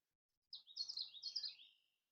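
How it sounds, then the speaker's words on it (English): A small bird gives a quick run of bright chirps and tweets near a lake in the woods, a single short burst, faint and distant, with no talk or other sound. "You have birds."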